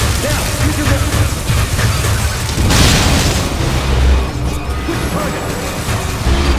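A missile fired and blowing up in the Metroid: Other M game on Wii, a loud booming blast with a crashing burst near the middle, set within dense game noise, with voices speaking over parts of it.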